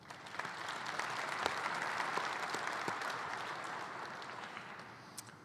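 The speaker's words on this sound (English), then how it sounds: "We'll give them a round of applause." A banquet audience at a dirt late model racing awards event gives a sustained round of applause, many hands clapping steadily and evenly, swelling slightly and then tapering near the end.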